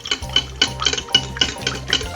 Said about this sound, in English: I'm gonna add in a tablespoon of the brandy. I'm gonna give that a whisk.